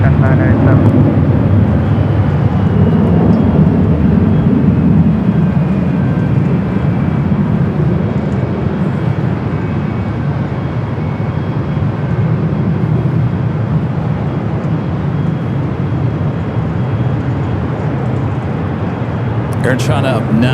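A heavy jet airliner on short final to runway 24 right at LAX, a steady, loud broadband roar that holds throughout with little change, distant and continuous.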